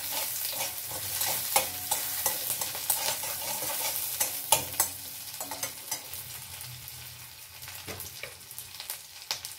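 Fennel seeds fry in hot oil with a steady sizzle, and a utensil scrapes and taps against the pan at regular intervals nearby. No voices.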